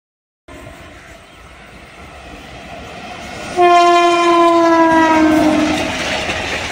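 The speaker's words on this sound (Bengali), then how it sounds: "কাঞ্চনজঙ্ঘা এক্সপ্রেস।" Kanchenjunga Express train rumbling past on a rail line between Bankura and Howrah, with a long, loud, sustained horn blast rising in the second half over steady wheel and engine noise.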